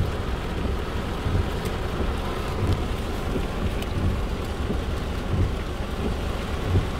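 Heavy rain pours steadily during a strong storm while driving in Las Vegas, a continuous dense hiss with deep low rumble from the road and car, no voices.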